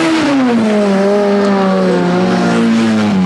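Rally cars at the 1994 Rally Australia Langley Park stage race toward the finish line, one engine screaming loud and close as it revs through the gears, pitch climbing and dropping with each shift.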